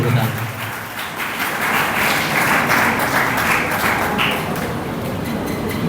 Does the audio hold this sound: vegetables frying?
no